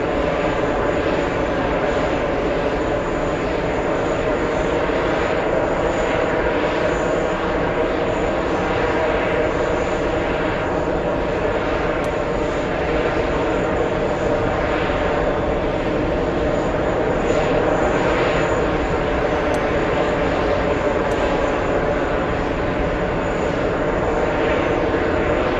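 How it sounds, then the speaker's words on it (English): An EVA Air Boeing 777 arriving from Taipei comes in to land at JFK, its engines making a loud, steady, broad roar that holds without a break for the whole stretch. "We have a 777 EVA 32 flying in from Taipei, landing in a few seconds."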